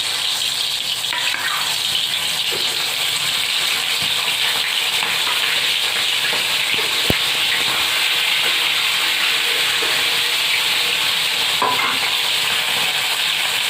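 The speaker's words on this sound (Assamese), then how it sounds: "সেইফালে মাছখিনি ব্ৰাউন হোৱালৈকে ভাজি থাকিম।" Fish rubbed with turmeric and salt fries in hot mustard oil in a wok, giving off a steady, loud sizzle and hiss throughout. There is one brief sharp click and no speech.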